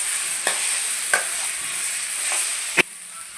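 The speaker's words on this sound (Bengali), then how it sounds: "মশলার সঙ্গে আমি ভালো করে কষিয়ে নিয়েছি" Chaam grass stalks stir-fried with spices give off a steady, bright sizzle, broken by four sharp spatula scrapes against the pan at uneven intervals, with no voices.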